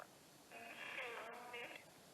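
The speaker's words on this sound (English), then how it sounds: "I'm going to turn on this one. This is a traditional radio." A traditional radio switched on, giving a faint burst of hissing static and tonal warble that rises, holds for about a second, then drops away, no talk.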